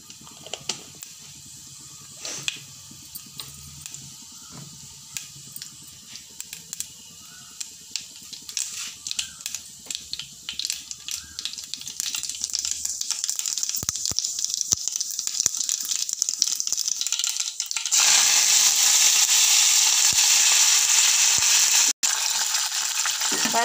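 Mustard seeds, chana dal, cumin and curry leaves go into hot oil for a ridge gourd and chana dal curry. Faint crackles and pops build into a loud, continuous hissing sizzle near the end.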